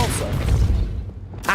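A spell blast from Hogwarts Legacy erupts as a loud booming whoosh, with a heavy low rumble that swells in the first second and fades, then a brief bright burst at the end.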